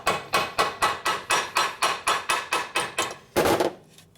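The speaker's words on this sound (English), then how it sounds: "Now we're just going to beat on it." A hammer strikes a hose clamp on the transmission of a 1967 Harley-Davidson 74ci Shovelhead FLH, about fourteen loud, evenly spaced metallic blows, then a heavier final hit with no talk.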